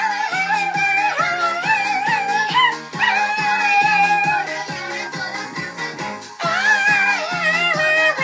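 A voice playfully imitates a dog for a knitted dog toy, with a run of rhythmic yips and whimpering barks, close and fairly loud, in several bursts across the clip.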